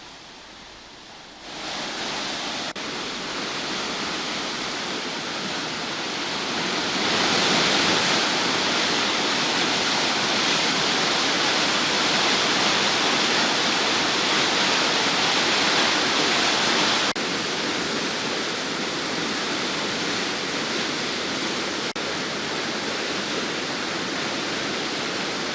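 The Netravathi River, swollen and flooding after heavy rain, rushes with a dense, continuous roar of fast water. It swells louder after the first few seconds and holds steady with no voices.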